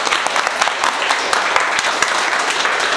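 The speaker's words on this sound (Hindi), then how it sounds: "जोरदार ताली बजा दो भाई।" An audience claps loudly and steadily for a guest at an indoor gathering in a mobile phone repair training shop, dense applause filling the whole stretch with sharp individual claps standing out.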